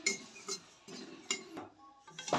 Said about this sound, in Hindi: कढ़ाई में डालेंगे जीरा और मिर्ची चलाते हुए एकदम क्रिस्पी भून लेंगे